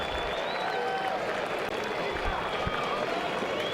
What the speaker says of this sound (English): the applause you hear from behind the Astros dugout is probably the DeCenzo family making the trip